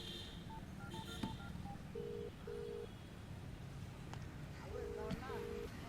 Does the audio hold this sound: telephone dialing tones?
yes